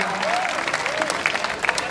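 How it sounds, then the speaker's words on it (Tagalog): A reunion crowd claps for its batch chairman, a brief spell of sustained clapping with some crowd murmur and voices underneath. "Pakilakasan naman po ang palakpak"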